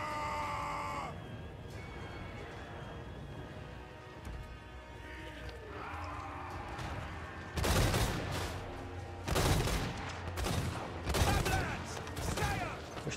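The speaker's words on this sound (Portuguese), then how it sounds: "Esse é meu canhão preferido do Império." Several heavy cannon blasts boom in succession in the second half of Total War: Warhammer 3 gameplay, each a loud broadband burst, after a quieter stretch of game ambience and music.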